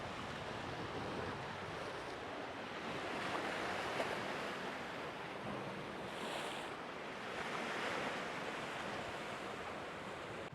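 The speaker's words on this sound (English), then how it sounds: "And listen the waves." Sea waves washing onto the shore at Marsaskala, Malta, a steady broadband surf wash rising and falling softly, with some wind noise and no talking.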